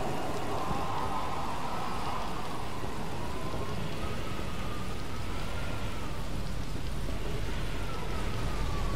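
Steady rain falls in a Dead Island game scene, a dense, even hiss running unbroken throughout at moderate level with no voices.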